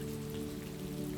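Steady rain falls with dense, even patter and a low hum underneath, continuous and soft with no voices.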